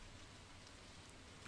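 Rain falls steadily in the video game Stardew Valley, a faint, even hiss of patter with no talking.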